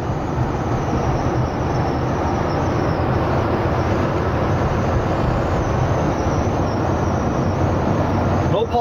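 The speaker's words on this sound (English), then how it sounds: "Really outstanding running truck." A 1985 GMC K1500 four-wheel-drive truck runs while driving, giving a continuous, broad road and engine roar at steady volume, with a person speaking over it.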